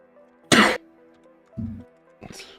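A person coughs close to a microphone: one sharp burst, then a lower, shorter cough and a brief throat-clearing sound, with quiet background hum between them.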